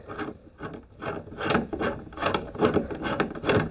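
A threaded rod on a self-closing door closer is twisted by hand, making a steady run of rough rubbing and rasping scrapes with small ratchety clicks, close and moderately loud, with no talking.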